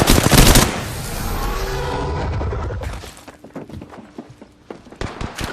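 Rapid automatic gunfire in the video game Apex Legends, a loud sustained burst of shots up front that breaks into scattered, choppier shots and clatter toward the end.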